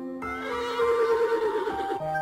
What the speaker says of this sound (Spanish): Oigo caballos. No suenan demasiado lejos.